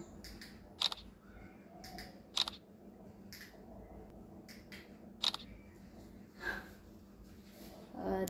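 Three sharp, isolated shutter clicks from a smartphone's front camera, fired by a Bluetooth remote shutter and spaced a few seconds apart over a quiet, low background hum.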